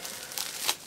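A short, faint crinkle of plastic packaging being cut with small scissors while unboxing a Dayan mini puzzle cube, a soft rustling snip with a slight peak near the end, no talking.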